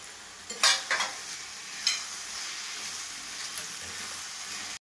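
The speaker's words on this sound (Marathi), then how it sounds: "आता आपण फ्राय केलेले झिंगे याच्यामध्ये ऍड करणार आहोत आणि असं 2 मिनिटांसाठी आपण याला फ्राय करणार आहोत" Prawns frying in a tomato masala, a soft steady sizzle with a few sharp scraping stirs near the start, then an even hiss until it cuts off abruptly.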